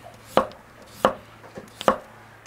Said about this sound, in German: die Kartoffeln, die werden hier in Scheiben geschnitten